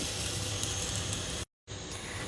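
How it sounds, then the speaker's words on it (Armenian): Thin potato slices sizzling in a dry, well-heated pan with no oil, heard as a close, steady crackling hiss broken by a short gap of silence before it resumes. "Խշխշոցը լսում եք, չէ՞, դա նրանից է, որ կարտոֆիլի վրա ոչ մի գրամ յուղ"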